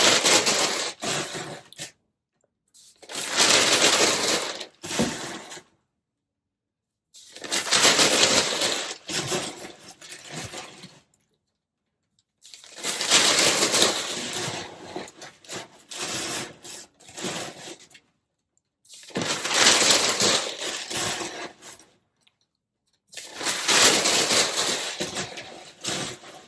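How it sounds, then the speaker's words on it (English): Packing paper being crumpled by hand to fill the empty space in a shipping box, bursts of crinkling and rustling a few seconds long with quiet pauses between, close by, no talking. "I'm going to fill up the void with this packing paper that I have here."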